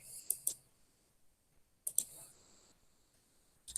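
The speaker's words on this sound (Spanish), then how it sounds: "Listo, le damos clic en aceptar." Computer mouse clicks while working in a spreadsheet: two quick sharp clicks, a pause, another pair, then a final click, crisp and close in a quiet room.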